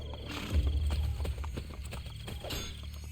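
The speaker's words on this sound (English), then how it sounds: "I didn't want to get on the horse." Horse hooves clop faintly in a quick uneven rhythm in the Assassin's Creed Brotherhood video game, mixed with soft game ambience and no voices.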